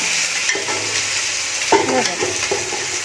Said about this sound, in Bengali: এবারে মাংসটা দিয়ে দেবো মাংসটা ভালো করে কষাবো